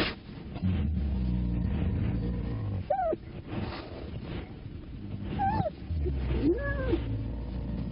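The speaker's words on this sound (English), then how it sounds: "Courtship is a relatively noisy affair for the normally quiet cats." Lynx trade rising, wavering courtship yowls and moans, several calls spaced apart over a low background rumble in the north woods.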